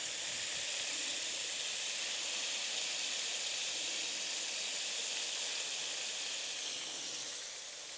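Smashed burger patties sizzle on a flat-top Blackstone griddle, a steady, dense hiss that holds evenly close-up for the whole stretch and eases slightly at the end, with no voices.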